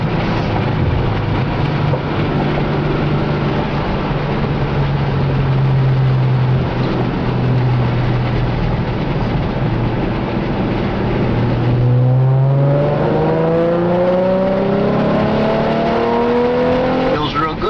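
A Mustang V6 with an MRT Interceptor axle-back exhaust drones loudly at a steady 4,000 RPM, then drops and climbs again in a rising rev, continuous and close throughout.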